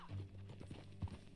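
Horse hooves clip-clop in Red Dead Redemption 2, a short run of close, even hoofbeats with a low thump, quiet and alone.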